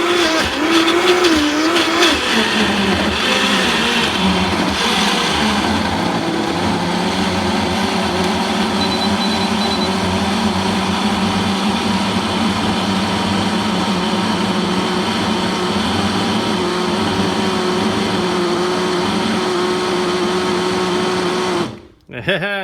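A Vitamix S50 blender churns ice into ice cream, a loud continuous whirring motor drone with a steady roar that cuts out abruptly near the end.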